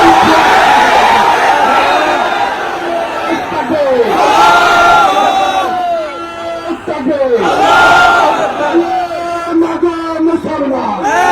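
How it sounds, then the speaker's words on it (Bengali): Large rally crowd at Charmonai grounds shouting a religious slogan in unison, a loud massed roar of voices rising in repeated waves, with a leader's call between the crowd responses. "দাঁড়িয়ে নারায়ে তাকবীরের ধ্বনি দিতে হবে"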